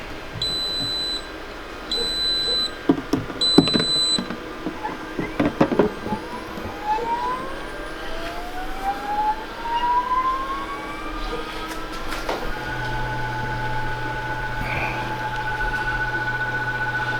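An Anycubic Wash & Cure station set to wash mode gives a few short electronic beeps, then its motor starts spinning with a steady low hum and whine that carries on to the end, with no talk.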